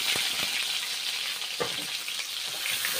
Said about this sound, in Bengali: মটন ভেজে নিচ্ছি, কষে নেব বেশ ভালো করে।